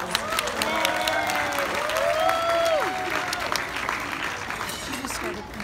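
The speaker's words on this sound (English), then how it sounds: "let's give them another round of applause" A crowd claps steadily for several seconds at a doll show awards banquet, with scattered cheers and whistles rising above the applause.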